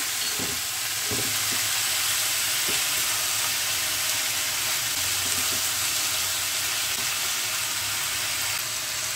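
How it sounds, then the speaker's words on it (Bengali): Spinach hitting a hot pan with already-browned tempering, giving a loud, dense, continuous sizzle close up, with a few faint knocks of stirring underneath. "আস্তে আস্তে শাকটা ছেড়ে দিচ্ছি। একটু নেড়ে দিই।"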